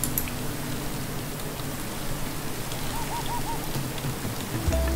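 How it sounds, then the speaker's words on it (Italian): Rain in the game Minecraft falls as a steady, even patter of drops, with a few soft hoot-like tones and a low thump near the end. "Qua piove, ma tanto adesso entriamo nel deserto, così non piove più."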